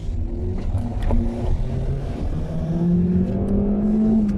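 A 1.6-litre naturally aspirated Honda Civic FB7 with an open air filter driving over a rough, broken road, engine note rising steadily with road rumble and thumps from the cabin, no talking.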